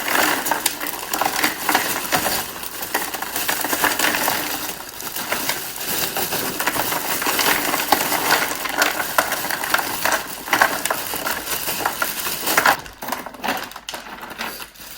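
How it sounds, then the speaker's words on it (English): Ice cubes pour into a Ziploc bag set over a spatchcocked turkey beside an Ole Hickory Ace smoker, making a dense, continuous clattering rattle close to the mic with no talking. "I want to get this thing full of ice, so we'll go ahead and add some ice"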